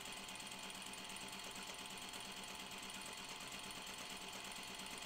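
A sewing machine stay stitches along a seam of a Scout Tee, running in a steady, fast, unbroken mechanical whir, close and even throughout with no talking.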